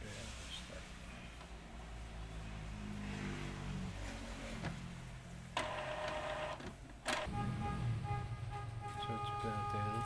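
An inkjet printer runs a print head cleaning cycle, with a steady mechanical whir and grinding motor hum, clicks and shifting tones lasting about ten seconds, up close and fairly loud.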